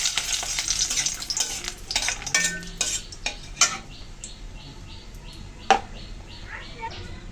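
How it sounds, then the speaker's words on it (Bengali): Dry red chilies and bay leaves hit hot oil and sizzle with a crackling hiss, followed by scattered spoon clinks and stirring against the pan, the frying loud at first then settling to a fainter sputter. "এদিকে তেল গরম হয়ে গেছে। ফোড়নে দিয়ে দিচ্ছি শুকনো লঙ্কা, তেজপাতা"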